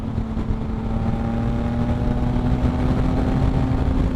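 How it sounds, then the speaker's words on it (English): Yamaha MT-09 motorcycle with a Two Brothers exhaust pulling hard in sixth gear at about 75 mph, a steady droning engine note under heavy wind rush, continuous and close throughout. "I hit the throttle, that thing goes."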